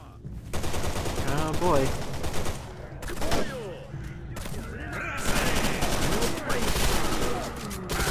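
Rapid bursts of gunfire from a weapon in the video game S.T.A.L.K.E.R. Anomaly, loud and dense, with volleys running nearly continuously under occasional talk.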